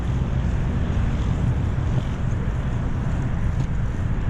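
Strong wind buffets a moving boat, a loud, constant low rumble with gusty roar and faint water noise beneath, no speech.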